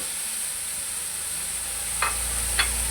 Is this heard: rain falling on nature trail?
no